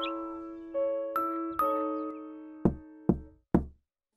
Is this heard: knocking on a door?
yes